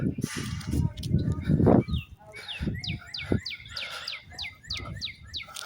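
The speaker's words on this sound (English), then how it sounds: "Oh, there's several of them. Sings nicely." Several birds sing in a repeated run of bright, descending whistled notes, fairly close, over low rumbling background noise and some murmured voices early on.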